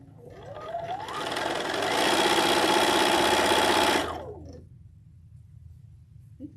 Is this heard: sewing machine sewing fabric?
yes